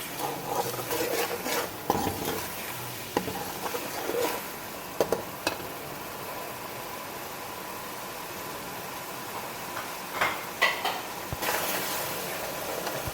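Chopped green chillies are stirred into a pakora batter, giving soft repeated scraping and squelching sounds with occasional sharper clicks of a spoon against the bowl, close and continuous.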